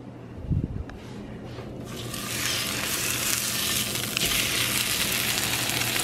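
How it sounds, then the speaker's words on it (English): Salmon is laid skin side down into olive oil with a brief thump near the start, then the oil sizzles steadily, the frying hiss swelling louder and filling the rest of the clip. "putting this skin side down into my frying pan"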